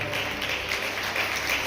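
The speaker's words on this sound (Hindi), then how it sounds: "एक बार जोरदार ताली की गड़गड़ आवाज के साथ सम्मान दे रहे हैं" An audience at an art exhibition event in Dhamtari district claps steadily, a dense, fairly quiet wash of applause that holds even throughout.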